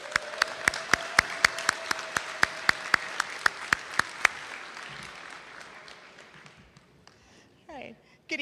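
An audience at a school scholarship night applauds, with sharp evenly spaced claps standing out over a wash of clapping, then fading away after about five seconds into near quiet with a few faint noises.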